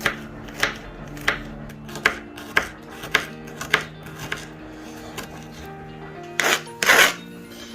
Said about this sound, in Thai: กระเทียมนะคะ หั่น